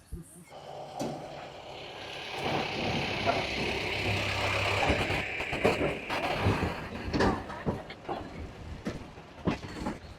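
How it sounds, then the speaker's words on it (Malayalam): A small diesel toy train engine approaches at a wildlife safari park, a low rumble and rattling clatter that builds and stays steady beneath people chatting nearby. "ടോയ് ട്രെയിൻ വരുന്നുണ്ട്."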